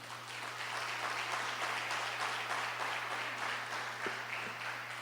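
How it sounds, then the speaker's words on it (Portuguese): A church congregation applauds Jesus during a worship service, a full, steady roar of many hands clapping that stays even and close across the whole stretch, with a low electrical hum beneath. "Pode aplaudir o Senhor Jesus?"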